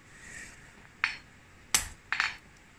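A hammer strikes hot iron while forging a nail. Three sharp, separate metallic taps ring out close by over a quiet background.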